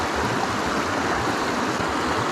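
Cool water of a small wild trout stream runs steadily and close, a dense, even rushing and babbling that fills the short stretch with no pauses and no voices.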